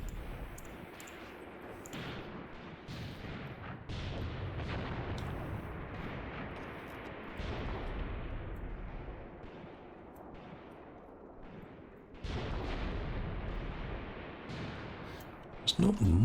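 Tank main guns and artillery fire in Graviteam Tactics as a series of deep, rumbling booms and rolling blasts at mid distance, with a voice talking over the battle.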